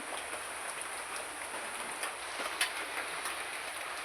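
Rain falls outside as a steady, even hiss, close and continuous, with a faint tap or two and no voices.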